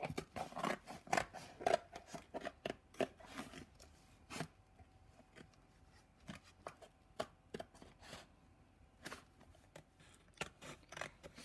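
Scissors snip out a drawn rectangle to make a viewing window in a box, a close, quiet run of irregular crisp cuts with short pauses between strokes.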